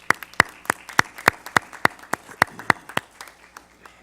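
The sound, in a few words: applause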